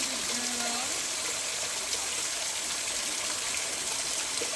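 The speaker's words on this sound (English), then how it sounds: "Oh, little waterfall." A small waterfall in a garden stream gives a steady hissing rush of falling water at moderate distance, with a faint voice briefly heard over it.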